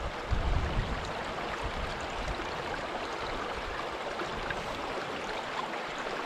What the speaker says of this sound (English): that's a very interesting sort of whirlpool effect on the water